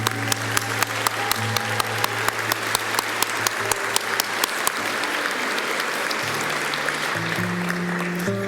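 Audience applause for liberal arts graduates at a 2019 CÉGEP Heritage College graduation ceremony, a steady sustained clapping from a large hall that runs the whole stretch while soft background music continues underneath.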